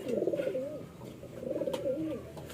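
Pigeons, among them a blue bar, coo in low, throaty rolling phrases inside a breeding coop, two swelling bursts close by with no talking.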